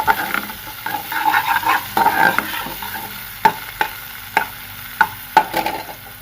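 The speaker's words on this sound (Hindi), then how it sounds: "लहसुन और प्याज़ों को हमने हल्का सा फ्राई करना है।" Garlic and medium onions fry lightly in a pan with a close, crackling sizzle, while a spatula stirs and scrapes in bursts of sharp strokes that grow more distinct toward the end, with no voices.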